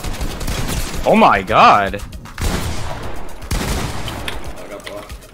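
Gunfire from a Fortnite box fight in the video game, with several bursts of shots under excited shouting and a startled exclamation, followed by quieter scattered shots and game sounds.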